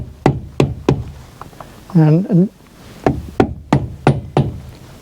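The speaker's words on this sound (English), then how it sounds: "I always have trouble securing this dust cover, so I just use the butt of the hammer, give it a little tap" A hammer butt gives repeated sharp knocks to a dust cover to clip it into place, about eight crisp taps in two bursts, close and loud, with a short spoken word in between.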